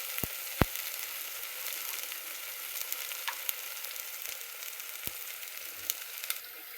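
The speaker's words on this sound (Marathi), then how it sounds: "बघू शकता कसा भाजलाय मसाला" Turmeric and red chili masala with mutton frying in a pan, a steady soft sizzle with a few sharp pops and clicks, close and alone.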